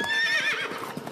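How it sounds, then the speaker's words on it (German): Horse named in a German-dubbed Yakari cartoon gives a loud, close whinny, with soft clip-clop hoofbeats beneath it in a brief burst. "das ist Roter Mond, das Pferd von Wirbelwind"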